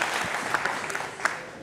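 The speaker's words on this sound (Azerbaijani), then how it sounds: "Quba'mızın şərəfinə bir alqışlar gəlsin" A studio audience at an Azerbaijani entertainment show bursts into brief, dense applause, a loud burst of many hands clapping.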